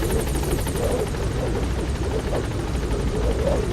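A Pequod helicopter lifts off in a video game, its loud, steady rotor whir and engine drone filling the scene close up, with no voices.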